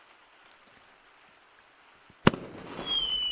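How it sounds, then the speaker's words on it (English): Fireworks in the Gorilla Tag VR game give one sharp bang after faint pops, followed by a crackling, sizzling tail and a rising whistle. "The fireworks!"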